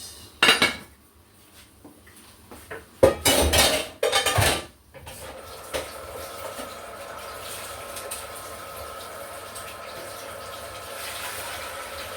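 A cooking pot is covered during kitchen cleanup while stew peas are made: a few loud metallic clanks of the pot and lid, then a softer, steady wash of water and rattling in the background.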